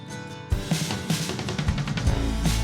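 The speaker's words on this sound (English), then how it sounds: "So for example, the drums I showed you before turn into this." A full drum groove kicks in after a brief quiet lead-in: punchy kicks, snappy hits and bright cymbals in a steady, driving rhythm.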